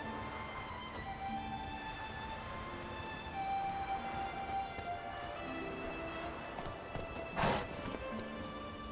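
Horse hooves galloping in The Witcher 3, a rapid steady clip-clop rhythm over a musical game soundtrack, with a brief sharp thump near the end.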